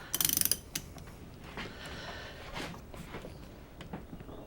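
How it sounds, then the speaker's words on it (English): Ratchet wrench clicking in a quick burst of rapid ratchet strokes, followed by scattered mechanical clanks and handling noises while a 7/16 hose fitting is loosened on an animatronic. "So I'm just gonna remove the fitting, so I can put a different fitting on."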